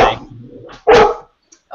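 A dog lets out a few sharp, loud barks close by, with short silent gaps between them and a voice briefly nearby.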